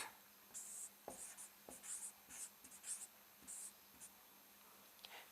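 Pen or chalk writing during a geography lesson on India's physical features, a steady series of short scratchy strokes with brief pauses, close and fairly quiet.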